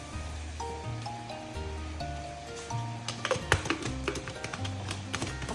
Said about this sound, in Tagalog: Bigyan natin yung konting tubig.